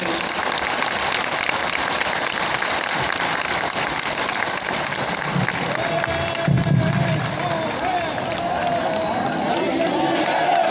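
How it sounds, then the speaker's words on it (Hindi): At the 148th Arya Samaj foundation day celebration, an audience claps loudly for Amit Shah, a dense, continuous crowd clapping with scattered voices and a brief low rumble midway. "एक बार जोरदार तालियां बजा दें।"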